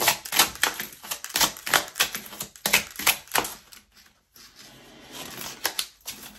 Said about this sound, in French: on va tirer une carte de la prophétie des étoiles